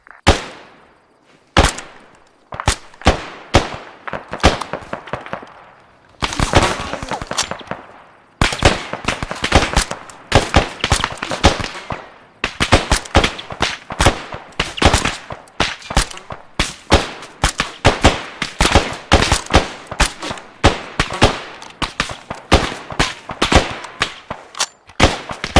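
Dense gunfire in an ArmA 3 firefight: loud rifle and machine-gun bursts crackle continuously, with rapid overlapping reports and short volleys throughout, and no voices.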